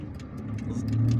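Car driving along an expressway in Algiers, a steady low engine and road rumble heard from inside the vehicle, gradually swelling slightly.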